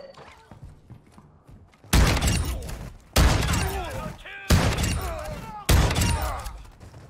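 Shotgun firing in a first-person video game: four loud, booming blasts spaced roughly a second apart, each followed by ringing, clattering tails and debris, over quiet game ambience.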